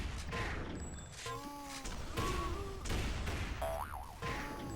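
Rifle fire in a video game duel: a series of sharp shots and impacts mixed with tonal electronic game effects and whooshing sounds, fairly loud and dense throughout.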